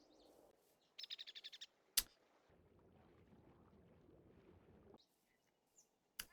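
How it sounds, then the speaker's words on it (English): Seagulls in a modded Minecraft game give a quick burst of rapid chirping calls against quiet ambient water and rowing sounds, with a few sharp clicks and soft rustling. "Seagulls?"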